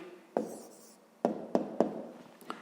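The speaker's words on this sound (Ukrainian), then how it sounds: "записуємо тоді відповідь, пишемо відповідь" A pen writes an answer on paper during a fifth-grade maths lesson: soft close scratching with several sharp taps as strokes begin, quiet and without talk.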